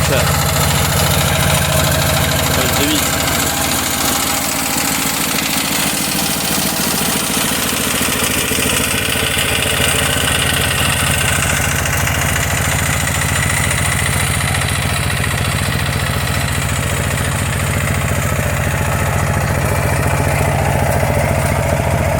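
A walk-behind motor tractor tills a damp field in second gear. Its engine runs loud and close, holding a steady, throbbing roar for the full stretch.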